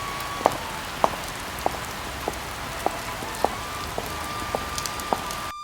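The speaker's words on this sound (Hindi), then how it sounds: "आसमान में बादल छाए हुए थे और हल्की बारिश हो रही थी।" Light rain falls in a steady, soft hiss, with drips landing at regular intervals roughly every half second and a faint tone humming underneath.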